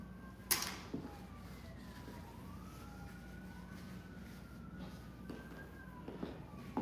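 Emergency sirens pass along a Hollywood street, wailing tones sweeping up and down at a moderate distance over low traffic rumble, fairly faint and steady throughout.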